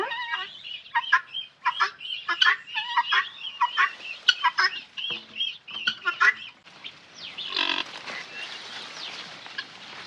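Rapid, repeated clucking calls from a free-range hen, close and fairly loud, in quick bursts, with softer chirping from her eight newly hatched chicks later on.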